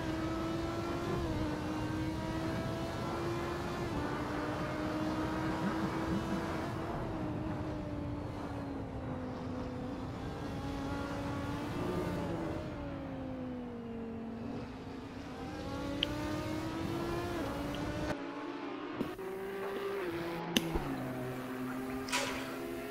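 A BMW race car engine in a sim racing game lapping Road Atlanta, droning steadily at high revs, with the pitch rising and falling through shifts and corners, and a few sharp clicks near the end.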